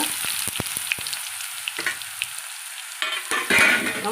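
Ginger garlic paste frying in a pan for a taro root fry, a steady close sizzle broken by sharp stirring clicks and scrapes, with a louder burst of spatter near the end.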